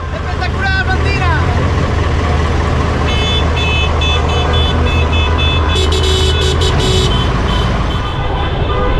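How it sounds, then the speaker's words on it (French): Car horns honking in a busy street in Argentina, several horns of different pitches tooting and blaring in overlapping bursts over steady traffic rumble, with people talking nearby. "qui est en train d'essayer tous ces klaxons devant nous"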